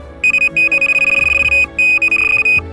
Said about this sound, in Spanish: cualquier movimiento de la línea hace que la alarma pite